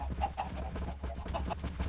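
A Minecraft chicken clucks repeatedly in quick, close bursts, its short in-game squawks running continuously with no talking over them.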